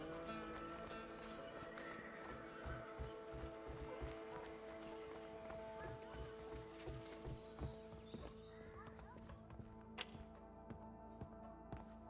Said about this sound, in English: Let's just hope these horses keep running.